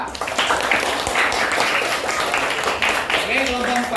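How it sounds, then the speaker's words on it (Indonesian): Students in a classroom clap hands for a group of classmates: a loud, busy burst of clapping mixed with voices and chatter throughout. "tepuk tangan dulu buat kelompok 4"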